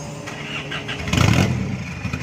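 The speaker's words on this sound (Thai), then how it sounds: "เดี๋ยวเรามาฟังเสียงรถพี่เขากันนะ" A Chevrolet pickup with two-tier headlights starts up and its engine is briefly revved, a short rising burst over a steady idle, close by.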